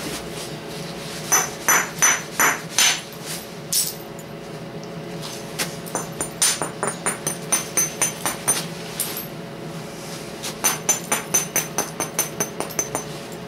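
Sharp ringing clinks of a hard hammer striking stone during spalling come in quick bursts and irregular series, with short pauses between groups of strikes.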